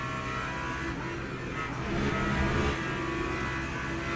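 Lamborghini GT3 race car in Le Mans Ultimate at Le Mans, its engine roaring loudly and continuously with a swelling surge mid-way, amid dense wind and track noise.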